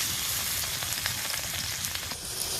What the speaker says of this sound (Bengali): আলুটা ভাজা হয়ে গেছে হালকা করে